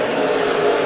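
Race cars roar around a dirt oval at Monett Motor Speedway during a heat race, a loud, steady blended engine drone with no break, close and sustained.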